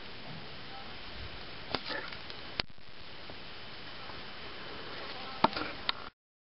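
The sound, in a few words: wasps buzzing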